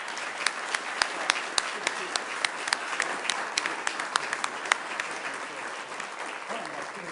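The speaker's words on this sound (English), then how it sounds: "let's give these folks a rousing round of applause" Applause from an audience at a city council meeting in Sioux Falls, a steady wash of many hands clapping with sharp individual claps standing out, moderately distant and sustained throughout.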